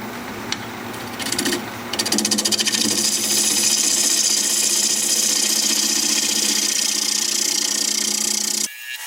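A wood lathe spins while a cutting tool works the wood of a blank whose corners have been rounded off. A loud, continuous rasping cut runs for most of the clip, after a few brief scrapes at the start, then stops sharply near the end.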